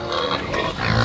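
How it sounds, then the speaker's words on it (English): A pig on a farm grunts and snorts up close, a short, rough burst of animal noise that fills the moment. "Pig."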